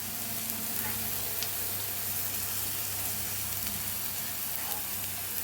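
Chopped onion frying in a pan as crushed green chili and garlic paste goes in, a steady low sizzle with faint stirring scrapes throughout, no talking.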